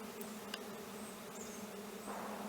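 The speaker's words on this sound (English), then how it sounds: "the swarm of bees is" A swarm of honey bees leaving the hive on a homestead, a steady dense buzzing drone with no voices.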